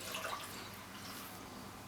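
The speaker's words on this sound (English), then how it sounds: "and then we'll fill the reservoir with some water." Cold tap water pours steadily into the reservoir of a Jura ENA Micro 1 automatic coffee machine, a continuous close splashing rush with no talk.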